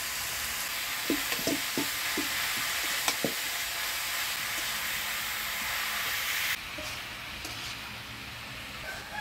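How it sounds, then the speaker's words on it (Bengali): Bottle gourd with salt, turmeric and green chillies is stirred in a frying pan, a steady sizzle broken by several sharp spatula scrapes and knocks early on, then quieter frying after a sudden drop in level. "লাউর সাথে মশলা দিয়ে ভালো করে নাড়াচাড়া করে নিলাম।"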